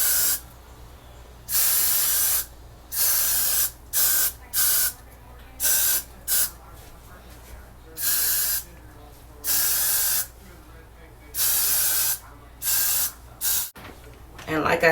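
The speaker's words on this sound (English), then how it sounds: "Go ahead and hit the ponytail with some of your freeze spray." Freeze hair spray is sprayed onto a ponytail in repeated short and longer hissing bursts, close and loud, separated by brief quiet gaps.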